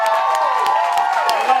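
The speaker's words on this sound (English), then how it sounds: "Give everybody a huge round of applause." Graduation crowd at a high school's last day, applauding and cheering loudly and continuously with scattered whoops and shouts, a dense wash of clapping filling the whole moment.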